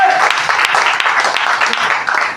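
Audience at a motivational talk on network marketing clapping, a dense, loud burst of applause that fills the room steadily.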